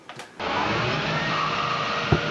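A shop vac roars on after a brief scuffle, blowing out dust with a loud, steady whooshing motor hum close by, a short thump near the end.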